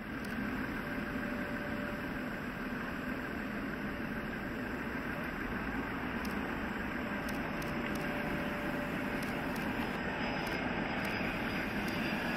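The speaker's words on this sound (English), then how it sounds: "American Airlines 767 gets dangerously close to tail strike on landing." An American Airlines Boeing 767 airliner coming in to land produces a steady, loud jet engine roar that continues without a break and sounds fairly close, with no voices.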